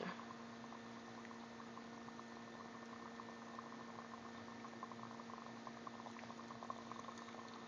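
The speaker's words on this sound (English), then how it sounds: "hydrogen gas, which you see bubbling out" Hydrogen gas bubbling from a gallium-aluminum alloy reacting with water, a faint, continuous fizzing and seething with fine crackling bubbles under a steady low hum.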